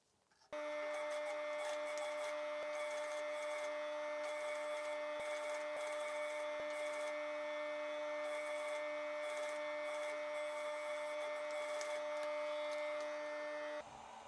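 Sewing machine stitching a corset bra cup seam, a steady, even mechanical hum with a tonal whine that starts abruptly and runs continuously at moderate, close level, with faint ticks.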